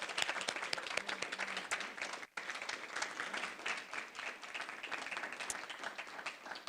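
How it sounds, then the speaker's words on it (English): An audience applauds candidates at a League of Women Voters candidate forum, steady moderate clapping from a modest crowd with a brief dip midway before resuming. "Let's give them a round of applause."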